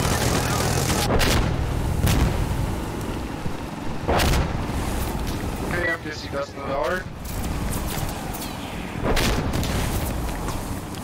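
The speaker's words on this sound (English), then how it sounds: "That's mortars." Mortar fire booms out in a nighttime Insurgency Sandstorm match on the Trainyard map, with several heavy blasts spaced a few seconds apart over steady game noise and light gunfire.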